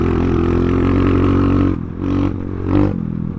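A 2021 Kayo K2 230 dirt bike on a trail, its engine droning loud and steady up close, then easing off and surging again through a few throttle changes with some clatter.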